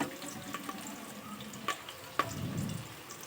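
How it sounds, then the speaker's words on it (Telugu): Onions and green chillies fry in hot oil with a faint, steady sizzle, broken by a few soft clicks and stirring scrapes, heard up close and quiet with no talking. "ఆయిల్ వేడైన తర్వాత మనం ఉల్లిపాయ ముక్కలు, పచ్చిమిర్చి వేసుకొని కొంచెం బాగా ఫ్రై చేసుకోవాలి"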